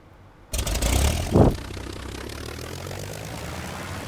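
A propeller plane in Garry's Mod's LFS flight addon starts with an abrupt, loud engine drone that swells briefly, then settles into a steady, nearby hum with no talking.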